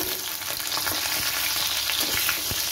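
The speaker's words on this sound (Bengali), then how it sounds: "বাকি মাছগুলো আমি একইভাবে ভেজে নেব" Pieces of rohu fish fry in hot oil with a steady, close crackling sizzle that holds for about three seconds, broken by a few faint utensil clicks. No one speaks.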